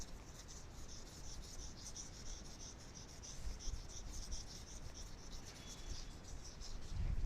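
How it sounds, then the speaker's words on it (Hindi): Marker or chalk writing on a board during an inorganic chemistry lecture, a steady scratchy rubbing that runs continuously without talk, moderately close. "तो आगे लिखते हैं।"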